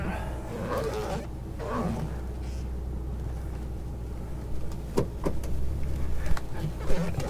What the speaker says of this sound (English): Let's take this thing for a test drive.